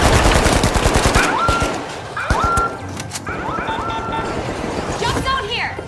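Rapid turret gunfire in a first-person shooter, dense bursts of automatic shots repeating over several seconds with game effects layered on top, loud and close.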